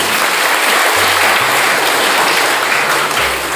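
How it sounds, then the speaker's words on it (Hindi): A church congregation at a Baptist service applauds loudly and continuously, a thick wash of clapping that fills the room, with faint low music tones beneath. "बढ़िया ताली बजाइए प्रभु के लिए"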